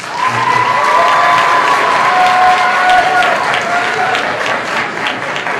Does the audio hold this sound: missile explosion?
no